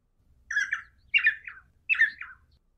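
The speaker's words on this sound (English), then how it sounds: "Crowed the grey jungle cocks in all directions as they came out along the stream bed" Grey jungle cocks crowing along a jungle stream bed at dusk: three separate harsh, squawking calls spaced about half a second apart, moderately near and heard alone over a faint low rumble.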